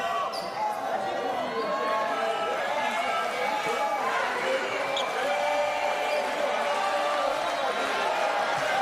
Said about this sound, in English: Crowd using the rare opportunity to make a bit of noise.